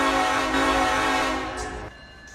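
A multi-chime train horn from the Run 8 train simulator game sounds loud and sustained with rich harmonic tones, holding steady for about two seconds before cutting off, leaving a quieter rumble of the locomotive underneath.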